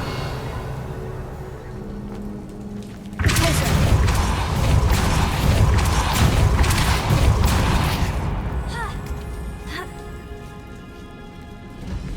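In the Hogwarts Legacy video game, the Revelio spell is cast: a sudden, loud, broad whooshing burst cuts in over quiet ambience, holds for several seconds, then fades out into soft shimmering chimes.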